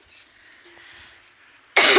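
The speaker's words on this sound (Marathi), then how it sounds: "खोकला लागले तर व्हायलाच माणसांना." A single loud human cough bursts out near the end, following a stretch of quiet room tone.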